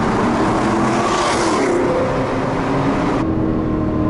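A 2002 Pontiac Firebird Trans Am engine pulls hard under acceleration, a loud, continuous close-up roar winding up steadily for about three seconds before easing off, with no talking.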